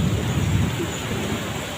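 Heavy rain pours in a dense, steady roar with a low thunder rumble rolling underneath, close and loud throughout with no voices.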